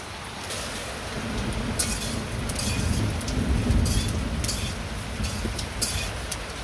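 Steady rain falling on a cold day, with a low rolling rumble of thunder swelling and fading underneath a dense hiss of drops, fairly loud and continuous, no voices.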